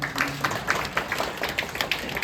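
An audience at a National Assembly infrastructure forum applauds briefly, a soft scattered patter of claps at moderate distance, fairly faint.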